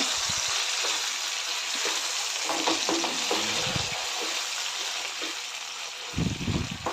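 Mashed eggplant, onion and tomato being stirred in a pan for baingan bharta, with a steady frying sizzle under scattered soft scraping strokes and a slightly louder stir near the end.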